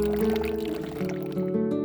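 Water bottles are refilled from a tap at a small temple on Ulleungdo, with a continuous pour and fill that rises slightly in tone as the bottle fills and plays alone for under two seconds.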